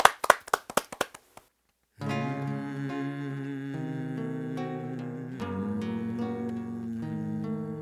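A short burst of about a dozen sharp hand claps, quickening then stopping, followed by sustained music with steady tones.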